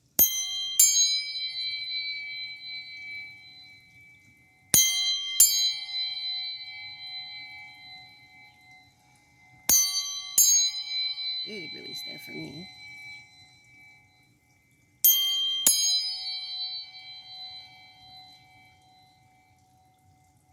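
Sound therapy chimes for the root, heart and solar plexus, struck four times in an even rhythm, each strike a bright metallic ring that decays slowly and sustains. A short spoken remark falls between two of the strikes.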